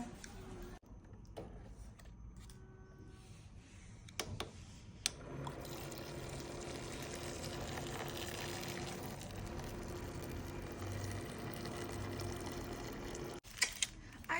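Hot water pours steadily into a bowl of wok noodles, a continuous liquid splashing and filling sound that runs close and fairly loud for several seconds after a few clicks and handling noises.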